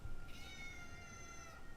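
A cat meows once in The Stanley Parable, a sustained, bright harmonic cry lasting more than a second, alone and clear at moderate level over a faint background.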